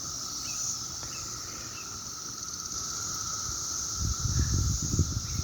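A dense, steady cicada chorus in Cincinnati drones continuously at moderate loudness, with low rustling and handling noise rising near the end.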